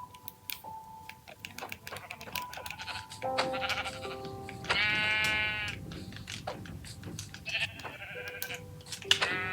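Sheep bleat repeatedly in a blocky survival video game, sustained cries rising over a steady clatter of keyboard and mouse clicks.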